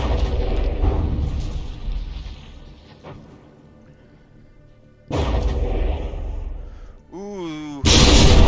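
Booming cannon-like shots from an APS gun firing pure kinetic rounds in the naval battle game From the Depths, with a few heavy bursts separated by quieter stretches and a loud blast at the end.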